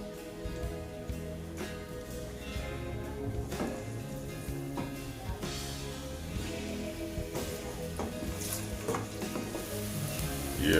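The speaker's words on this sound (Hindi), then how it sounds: "ये हमने एक पॉट के अंदर जो है वो ऑयल गरम करके ऑयल में प्याज डाल दिए।" Onions sizzle and fry in hot oil inside a pot, a steady crackling hiss with occasional stirring clatter, close and continuous, with no talking.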